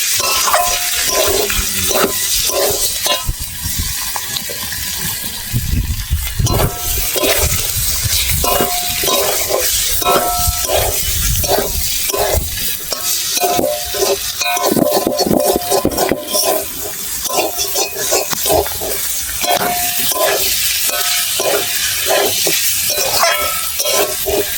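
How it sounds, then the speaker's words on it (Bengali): Food stirred while frying in a pan, with repeated rhythmic scraping and clinking of a utensil against the pan over a continuous loud sizzle, close by and sustained throughout. "আর একবার নেড়ে দেবো ভালো করে"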